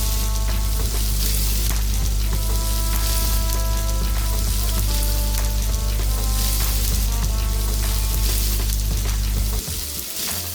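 Onions and green chillies for paneer biryani sizzle steadily in a hot pan, a loud continuous frying hiss with faint stirring, cutting off near the end.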